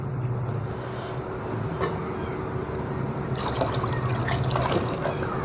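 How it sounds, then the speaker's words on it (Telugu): Water poured into a pot while cooking tahari, a steady soft trickle and fill close by, with faint clinks and brighter splashes toward the end. "రెండు, మూడు నీళ్ళు పోస్తున్నా నేను."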